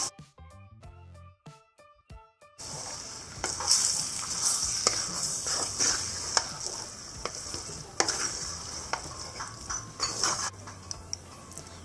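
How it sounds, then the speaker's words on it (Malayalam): Cut squid stirred in a frying pan for Kerala-style squid thoran, a steady scraping and sizzling with clinks of a utensil against the pan, close and continuous after a short quieter start, with no talk. "കണവയും കൂടെ ഒന്ന് മിക്സ് ചെയ്ത് യോജിപ്പിക്കാം."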